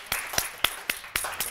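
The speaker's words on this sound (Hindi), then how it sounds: "तालियां बजनी चाहिए भाई" A studio audience claps on a morning talk show, with six or seven distinct, spaced hand claps of moderate loudness and no talk over them.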